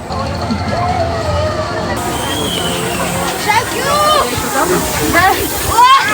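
Water splashes and sloshes at an amusement park, with rushing water and a lively crowd hubbub throughout while people nearby talk and exclaim excitedly.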